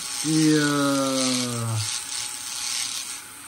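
A brand-new rotary tool drill bit carves into wood to shape octopus suckers, giving a steady high whine for about a second and a half before cutting off, followed by low background noise.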